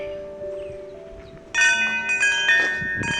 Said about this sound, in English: I have this wind chime that I found at Tractor Supply